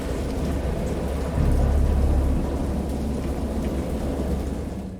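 Steady heavy rain with low rolling thunder that swells loudly around the second and third seconds, then settles back into a continuous downpour.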